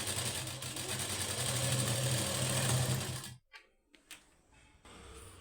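Sewing machine stitching a blouse sleeve, a loud, steady close-up whir for about three seconds, then stopping abruptly, followed by faint handling clicks and quiet movement.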